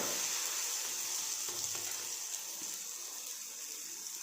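Bajra millet and fenugreek chamchamiya fry in oil on a hot tawa, giving a steady close sizzle and hiss with a few faint scrapes partway through and no talking.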